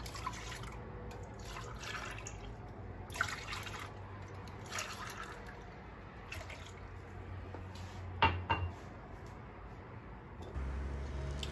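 Warm milk poured into a bowl for börek dough, a soft steady liquid trickle with a few brief clinks, close and fairly quiet with no talk.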